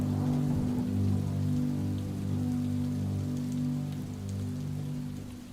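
Steady rain falls in a continuous patter over a low, droning background, with a constant wash of drops and no voices.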